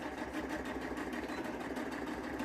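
A sewing machine runs steadily, stitching down the strap of a tote bag made from a T-shirt, with a continuous close mechanical whir and no pauses or talk.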